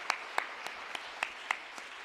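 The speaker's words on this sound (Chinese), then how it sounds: "咱将咱的双手拍热烈掌声来归应咱的上帝。" A church congregation claps during a Sunday worship service, sounding as a faint, evenly spaced series of about seven sharp claps in a steady rhythm.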